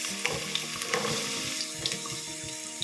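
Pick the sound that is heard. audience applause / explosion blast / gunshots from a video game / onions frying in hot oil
onions frying in hot oil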